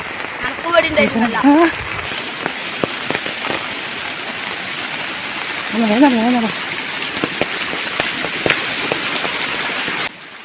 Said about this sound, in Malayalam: മഴേൻ്റെ ശക്തി കുറഞ്ഞിട്ടൊന്നുമില്ല നല്ല ശക്തിയായിട്ട് തന്നെ പെയ്തുകൊണ്ടിരിക്കില്ല